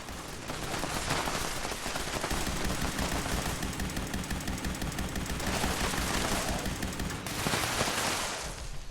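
Rapid, sustained automatic gunfire in the video game Fallout 76, several weapons firing at once in dense overlapping bursts that run almost unbroken, loud and close, with no talking.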